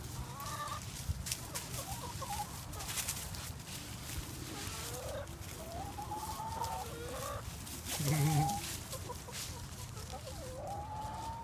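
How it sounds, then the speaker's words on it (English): Several chickens cluck and chatter at close range, a steady busy flock with overlapping calls and no speech. "The chickens are out."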